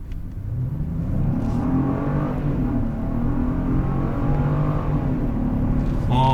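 Genesis GV70 3.5T SUV with sports package accelerates up a mountain road, its engine note rising in a smooth, steady climb heard from inside the cabin, with no talking.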